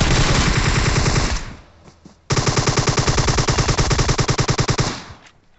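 Rapid automatic gunfire in the battle royale game PUBG Mobile, two long loud bursts of evenly spaced shots separated by a short quiet gap, with no talk over it.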